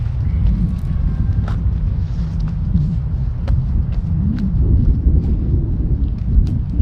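Strong wind gusting across a disc golf course, a steady low rumbling buffet against the microphone with faint scattered ticks and knocks throughout.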